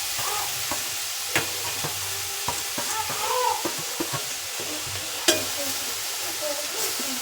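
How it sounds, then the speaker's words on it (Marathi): Grated carrot fries in oil with a continuous soft sizzle, overlaid by irregular clinks and scrapes of a spoon stirring the pan, one sharper knock midway. "नंतर असं पूर्ण जो किसलेला गाजराचं किस आहे ना ते पूर्ण त्यात टाकून घ्यायचं."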